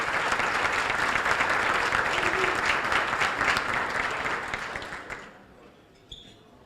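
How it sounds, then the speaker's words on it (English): An audience at a Los Altos State of the Cities gathering applauds Mayor Rich Larson with dense, steady clapping that holds for about five seconds before thinning out and fading to near silence, ending with one faint clap. "let's give a round of applause for Mayor Rich Larson"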